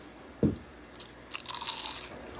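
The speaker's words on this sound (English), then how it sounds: "Did y'all hear that crunch?" A single sharp crunch of biting into premade gnocchi, close and fairly loud, followed by softer chewing.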